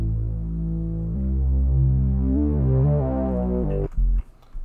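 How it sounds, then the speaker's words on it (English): A deep sub bass line in a chill R&B beat plays several sustained notes that glide from one pitch to the next. It is loud and smooth, then cuts off abruptly near the end. "And then I want to add a sub bass."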